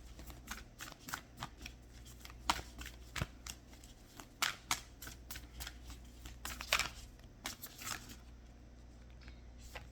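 A deck of cards being shuffled and flipped through, with quick rustling riffles and sharp card snaps in an irregular rhythm, close and fairly quiet, with no talking.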